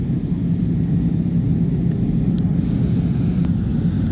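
Steady low roar and rumble inside the cabin of an Airbus A320 on final approach to Birmingham, constant and close, with faint light clicks now and then.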